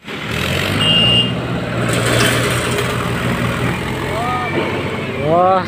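A modified Mahindra tractor engine runs steadily and loudly up close, a continuous rumbling drone with a few higher tonal sweeps toward the end, while a voice speaks over it.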